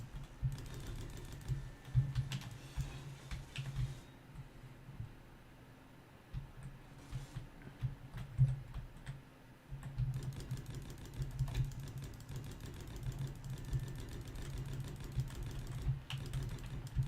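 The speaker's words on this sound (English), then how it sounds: "Hyperspeed clicking." Rapid, continuous clicking on a computer keyboard during a Space Engineers game session, fast taps in dense bursts with a short lull partway, fairly quiet and close with no talking.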